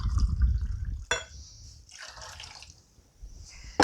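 Water poured into a cooking pot for Creole jambalaya on a burner, a short gurgling splash and trickle amid kitchen clatter, fairly close and moderately loud.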